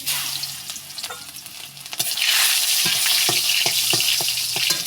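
Crushed garlic fries in a pan with a loud, steady hiss that swells after a couple of seconds, broken by regular scraping strokes of a spoon, close up with no talking.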